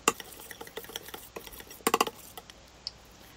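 Butter and peanut butter being mixed in a bowl for a bread topping: quick, close scraping and light clinking of a utensil against the bowl in irregular strokes, brief and fairly quiet.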